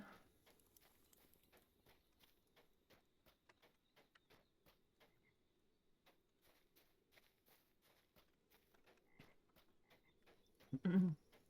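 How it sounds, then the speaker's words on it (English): A horse in the Lord of the Rings Online video game walks with faint, steady clip-clop hoofbeats in a regular rhythm. Near the end a brief, louder burst of sound rises above the hooves. "Horsey, why did you come back?"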